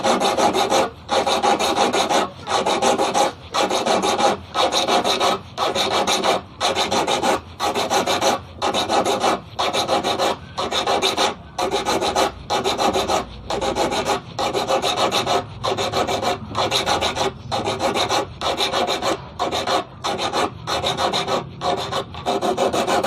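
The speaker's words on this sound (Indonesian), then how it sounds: "gunakan kikir opal ya, tuh kikir opal" An opal file rasps steadily across a small eel fishing hook, a regular back-and-forth stroke repeated about twenty times at an even, brisk rhythm, close and clear with short pauses between strokes.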